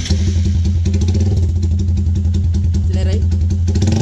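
Honda Titan 160 motorcycle with a new exhaust idling close by, a loud, steady, throbbing engine note that holds even throughout, with a voice speaking briefly over it.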